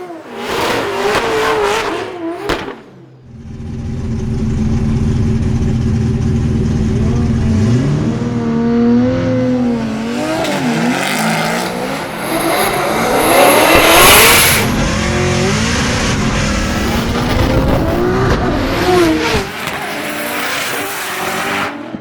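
A Formula Drift car launches in a skills battle, its engine roaring loud and close as it revs hard, with tires squealing and skidding while it pulls away and the revs rise and fall.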